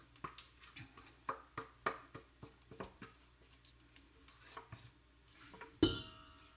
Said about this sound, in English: you want to mix the two together